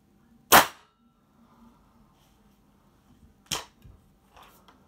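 An air rifle fires twice, each shot a sharp, loud crack about three seconds apart, followed by a fainter click and soft handling noises in an otherwise quiet setting.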